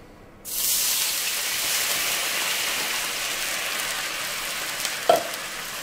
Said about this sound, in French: On va déglacer la poêle avec le bouillon.